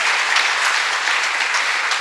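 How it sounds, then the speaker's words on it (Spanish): A church congregation applauds the Lord during a sermon, with steady, dense clapping from many hands filling the space, loud and continuous with no talking. "Denle un fuerte aplauso al Señor. Más fuerte, más fuerte"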